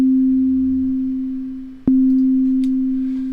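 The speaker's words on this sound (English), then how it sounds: "a single oscillator doing a sine wave shape at C3" A steady, pure sine tone at C3 from a single oscillator on the Ultrabeat synthesizer, held alone and unwavering, with one brief click as it retriggers partway through.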